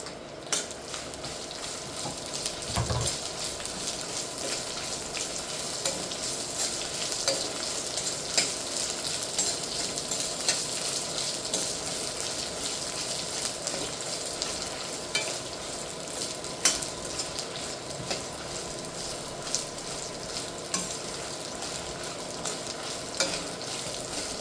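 Chopped ginger pieces fry in a pan for ginger chutney, giving a steady, dense sizzle with occasional stirring scrapes and utensil taps, close and continuous with no voices.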